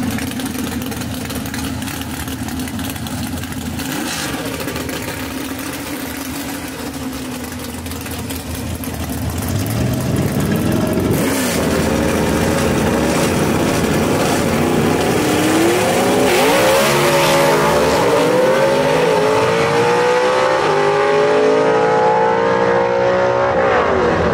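Gasser drag cars roar at Knoxville Dragway, a heavy engine rumble that builds into a loud rising howl as a car accelerates down the strip, with the revving pitch climbing near the end.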